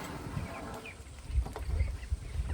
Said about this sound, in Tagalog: 1 month old po itong mga sisiw natin ng itik.